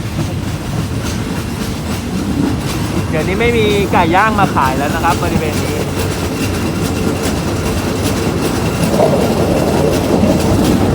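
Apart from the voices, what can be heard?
passenger train clattering along the tracks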